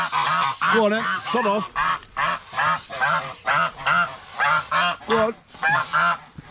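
Vicious farmyard geese honk aggressively in loud repeated bursts, close by, while someone shouts at them to go away.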